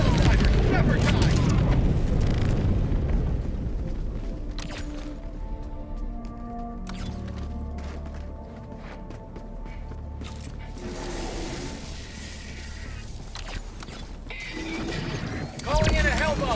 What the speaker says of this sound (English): Calling in an orbital strike.